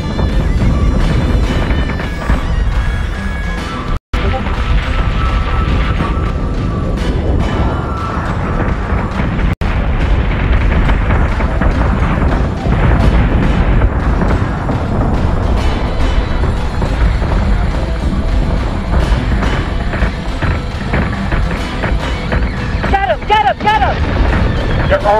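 Ship guns fire and explosions boom in the space battle game Battlestar Galactica Deadlock, a loud, continuous barrage of rumbling blasts and crackling bursts with game voices speaking over the din.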